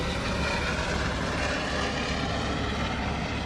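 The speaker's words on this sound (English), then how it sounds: "There's one of those helicopter tours above you." Tour helicopter flying above the Las Vegas Strip, giving a continuous loud, even whirring drone with no voices and no breaks.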